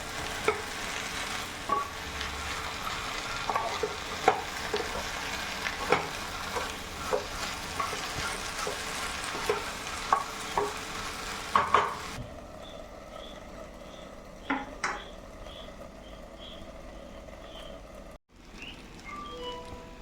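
Potatoes frying for a Kerala-style mezhukkupuratti with curry leaves crackle in a pan while a spoon stirs with scattered scraping taps. After about twelve seconds the sizzle drops sharply, as if the pan is covered, leaving only faint clinks.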